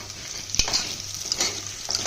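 Onions with green chillies frying to golden brown in a pan for methi biryani, a close crackling sizzle with a sharp clank of a spoon and repeated stirring scrapes over a low hum.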